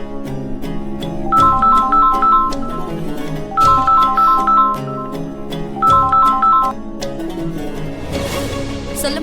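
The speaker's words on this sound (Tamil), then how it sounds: "நீ இந்துவுக்கு ஃபோன் பண்ணு." A phone plays a melodic electronic ringtone loudly, the same short tune repeating three times in a steady pattern before a noisy rustle at the end.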